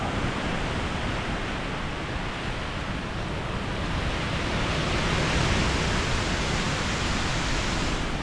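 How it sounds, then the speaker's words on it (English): Water flowing through a roadside ditch during Hurricane Milton at night, a steady broadband rushing wash that stays even and fairly close throughout, with gusty wind mixed into the constant noise. "A little bit of water in the ditch."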